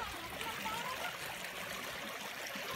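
Shallow stream water trickling and gurgling in a steady, close wash, fairly quiet and continuous without a break.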